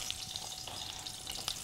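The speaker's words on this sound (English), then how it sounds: "So basically we are just frying this." A blended paste of pepper, onion and garlic fries in a hot pan, giving a steady close sizzle with crackling pops throughout, no voices.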